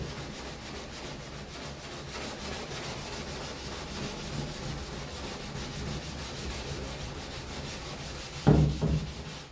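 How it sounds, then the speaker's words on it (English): Steady, soft rasping of hand-sanding a gelcoat repair on a boat hull, continuous and even, followed by a couple of brief louder knocks near the end. "very minimal sanding."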